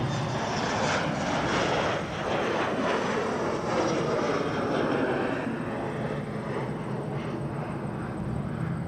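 Boeing 777-300 airliner arriving at Toronto Pearson Airport, a loud, steady broadband jet roar that holds without a break throughout, with a faint high whine riding above it.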